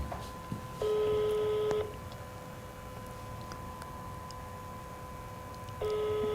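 Telephone call tones: a steady beeping tone sounds for about a second, followed by a quieter gap with faint line noise, then the tone returns near the end.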